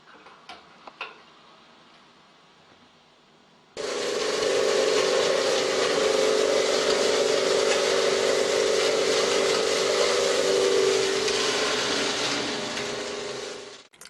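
A Magimix Le Duo XL juicer starts up partway through on its smoothie setting, a steady loud motor whir with a strong hum that holds evenly for about ten seconds before cutting off, after some faint handling clicks.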